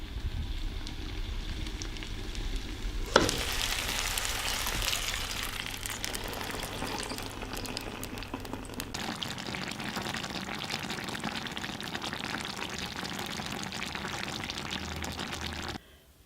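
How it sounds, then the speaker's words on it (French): Acidulated artichoke soaking water poured into a hot pan of stuffed artichoke bottoms with peas, a sudden loud hiss and sizzle that settles into a steady bubbling simmer before cutting off. "Je vais ajouter l'eau acidulée qui a servi au trempage des artichauts."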